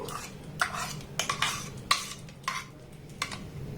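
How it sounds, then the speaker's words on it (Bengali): A chhana mixture is stirred into boiled milk in a pot for a sweet, repeated spoon scrapes and soft clinks against the metal, close and fairly quiet, with no talk. "এবার ছানার যে মিশ্রণটা বানিয়েছি সেটা এখানে আমি দিয়ে দেব।"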